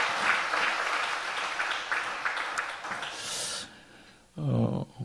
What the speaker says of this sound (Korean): 우리 좋으신 하나님께 감사의 박수 한번 올려드립시다.